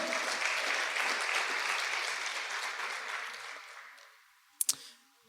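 A church congregation gives a round of applause, a dense wash of clapping that gradually fades out, followed by a couple of sharp clicks near the end.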